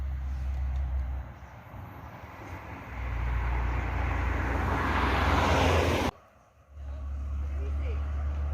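A large Al Hijrah coach bus roars past close by on a narrow road, its engine and broadband rush building to a loud peak before cutting off abruptly, then a lower engine rumble resumes.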